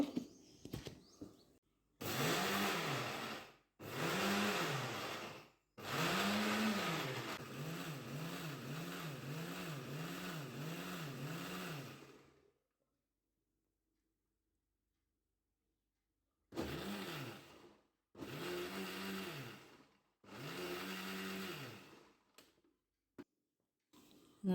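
A kitchen mixer grinder pulses on and off, whirring loudly in several short bursts with a long quiet gap, as Mangalore sambar cucumber is ground with salt into dosa batter.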